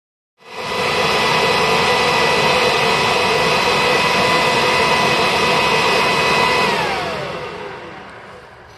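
A Kirby vacuum cleaner runs through an airflow suction box with a green Kirby HEPA bag fitted, giving a loud, steady whining roar for about six seconds before powering down with a falling pitch.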